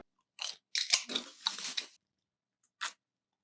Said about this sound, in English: I'm getting an audible crunch upon entering my mouth.